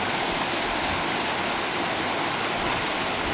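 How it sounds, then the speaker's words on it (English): The Merced River in Yosemite rushes steadily nearby, a loud, continuous broadband roar of flowing water with no breaks and no voices. "Pretty sure this is the Merced River."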